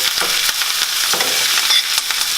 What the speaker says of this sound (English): Add more oil if you see fit. Alright, get your steaks on one part.